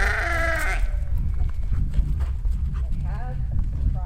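Sheep moving through a field with young Maremma livestock guardian dogs nearby, with bleats at the start and end over soft shuffling and trampling. A person talks through much of it.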